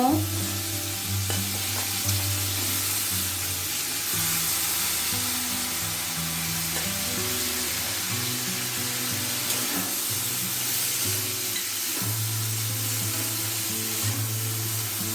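Bitter gourd tossed in with already-fried shrimp sizzles in hot oil in a pan, a steady close-up hiss running unbroken throughout over a low tonal backing, with no one talking.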